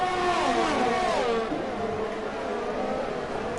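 McLaren and Ferrari race cars at Monza in a racing game, engines screaming loudly as they rise and fall in pitch, then settling into a fainter, steadier drone.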